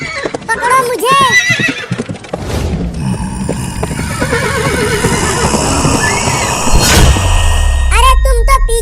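Horse neighing repeatedly with whinnies, alongside clip-clopping hooves and a bell-like ding, mixed with speech and effects in a Hindi comedy cartoon; loud and busy throughout.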